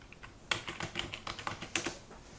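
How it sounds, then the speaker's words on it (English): Fingers type quickly on a computer keyboard, a close, dense patter of about a dozen keystrokes with no talking. "you can type in your country."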